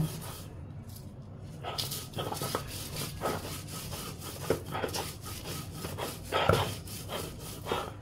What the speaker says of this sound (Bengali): চিংড়ি মাছ ভালো করে বেটে নেব